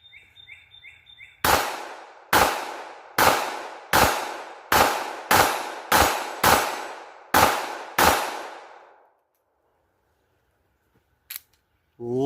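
A handgun fires nine evenly spaced loud shots, each a sharp crack with a ringing decay, followed by silence and a faint metallic click.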